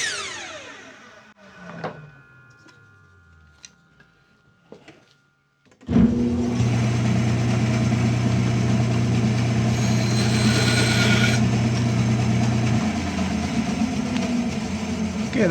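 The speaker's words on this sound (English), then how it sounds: "I'll just cut the plywood, and then I'll cut that with the bandsaw" A band saw runs steadily as it cuts through plywood, a loud continuous drone that starts abruptly after a few quiet seconds of scattered knocks and handling noise.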